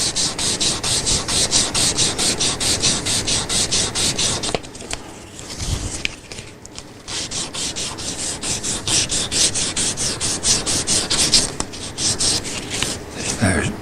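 Stratocaster guitar frets being sanded with 1000 grit paper, a steady close scratchy rubbing in quick repeated strokes that pauses briefly midway, then resumes at the same even rhythm.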